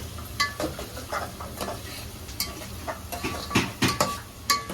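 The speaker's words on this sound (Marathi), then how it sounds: "सर्व मिक्स करून घेते" Stirring crab curry ingredients in a pot gives repeated scraping and clacking strokes over a low frying sizzle, with a few louder knocks near the end and no speech.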